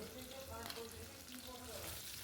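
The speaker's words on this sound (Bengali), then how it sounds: "তেলটাকে গরম করে নিয়ে তেলের মধ্যে ফোড়ন দিলাম গোটা চিড়ে তেজপাতা এক টুকরো দারচিনি" Whole spices, bay leaf and a piece of cinnamon sizzle in hot mustard oil in a pan, a faint, steady frying crackle with a few stirring sounds.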